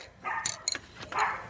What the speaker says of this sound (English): Those are my puppies. They are barkers.